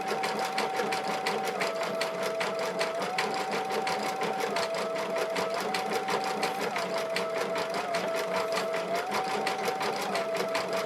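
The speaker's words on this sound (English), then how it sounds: "I've set the machine to stitch as fast as it can." An embroidery machine stitches a design at top speed, a continuous rapid mechanical chatter with a steady whine that dips and rises slightly, close and even for the whole stretch.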